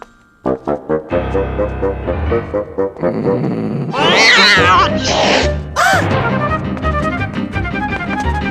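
A cartoon cat yowls and caterwauls loudly over busy orchestral music, with rising and falling cries and a sharp squeal after an opening run of plucked, staccato notes.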